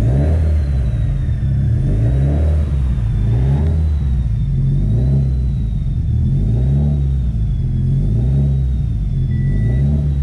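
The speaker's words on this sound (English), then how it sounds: "Not sure if you guys can hear the turbo right now," A 650whp Subaru STI with a loud turbo warming up, its engine droning steadily and loud throughout with a rhythmic pulsing rise and fall and a faint high whistle on top, no talking.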